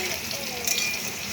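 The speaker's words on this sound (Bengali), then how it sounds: "আলতোভাবে খুন্তি দিয়ে আস্তে আস্তে নাড়াচাড়া করতে হবে, না হলে ভেঙে যাবে" Food sizzles in a wok while a spatula gently stirs it, making a steady close frying hiss with faint soft scrapes.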